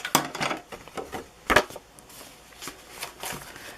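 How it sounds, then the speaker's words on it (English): Scissors trim a small paper edge for a junk journal, making a few crisp, close snips and rustles with short pauses between them. "And then we've got this little edge here that I'll cut off."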